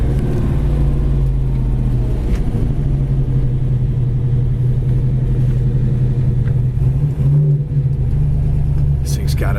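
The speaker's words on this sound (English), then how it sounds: "This exhaust has got a nice rumble to it too." A Fathom Green 1969 Chevrolet Chevelle Super Sport runs at a steady idle, its exhaust putting out a loud, deep, even rumble close by for the whole stretch.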